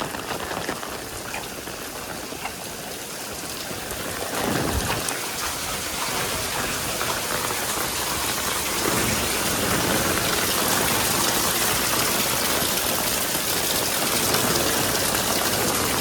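Heavy rain pours steadily and loudly, a dense continuous hiss of drops hitting surfaces close by, with no voices over it.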